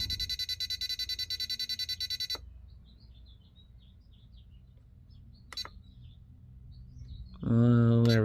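A Radiolink RC6GS transmitter alarm beeps in a fast, steady run of evenly spaced tones, loud and close, then stops; a few quieter clicks follow and a louder tonal whine rises at the end.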